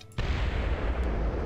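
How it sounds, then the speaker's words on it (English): Heavy explosions rumble and crack almost without pause from a World War II strategy battle in Axis & Allies (1998), a loud, dense barrage that starts abruptly after a brief quiet moment. "Lots of explosions."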